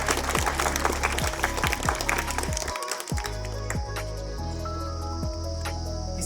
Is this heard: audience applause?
yes